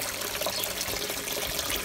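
Water trickles steadily out of a homemade filter on a raised turtle pond, a continuous close splashing and bubbling wash with no pauses, heard alone.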